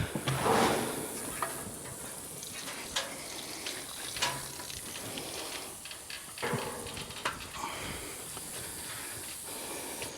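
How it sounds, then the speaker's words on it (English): Water rushes out of a pipe with a steady hiss, close by and fairly loud, with surging bursts and some clunking throughout. "We saw water going out."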